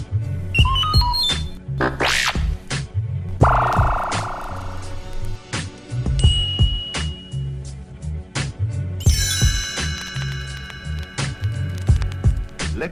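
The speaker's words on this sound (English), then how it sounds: "You will know it is time to turn the page when you hear the computer sound like this." A computer chirps and beeps as the page-turn signal on a read-along record. The short, bright electronic tones and warbling sweeps play over a steady, rhythmic low backing, loud and close.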